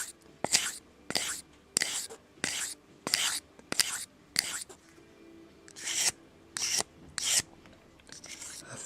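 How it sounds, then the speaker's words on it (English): A knife blade is drawn across a 600 grit whetstone in regular, gritty scraping strokes, about one every half second, with a short break midway before the strokes resume, close and crisp. "I'm going to hit it some more with my 600. See if I can get it a little bit sharper."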